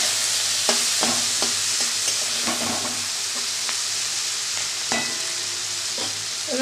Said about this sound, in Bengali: এবার শিমটা ভাজা ভাজা হোক